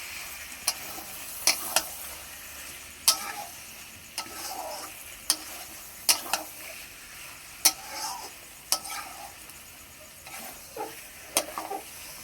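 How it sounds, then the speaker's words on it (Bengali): Potatoes fry in a pan, a soft sizzle under repeated sharp scrapes and taps as a spoon stirs them at a steady pace, close and fairly quiet. "আলু দেওয়ার পর মিনিট 2 ভেজে নেব"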